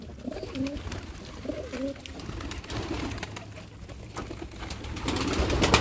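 Pigeons coo in low, rolling bursts inside a pigeon house, several calls repeating close by over a steady background hum.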